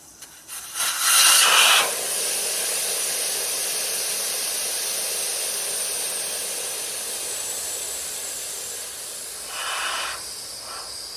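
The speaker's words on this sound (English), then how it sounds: "I'm just going to take my core out of the valve stem." Air rushes out of a Yamaha Banshee 421 ATV street tire through the valve stem with its core removed, a loud, steady hiss lasting many seconds, with a few brief louder bursts near the start and end.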